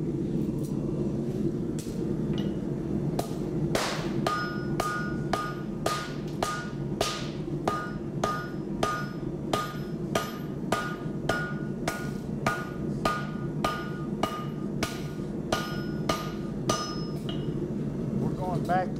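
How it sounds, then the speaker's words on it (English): Hot Damascus steel bar is hammer welded on an anvil, struck in a steady series of sharp metallic blows, fairly close and evenly paced over a low forge rumble. "We're going to hammer weld it."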